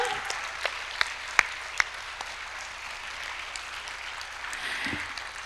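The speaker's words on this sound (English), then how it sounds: "Can we give a round of applause again to them?" Audience applause at an award ceremony following a performance, a moderate wash of clapping with a few sharper individual claps, lasting several seconds without speech.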